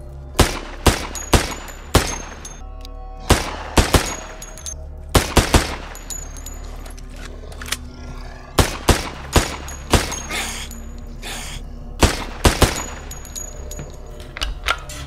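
Gunshots fire in bursts in the horror video game Asylum Nightmares, sharp loud cracks with some rapid clusters and metallic clangs between them, no talk.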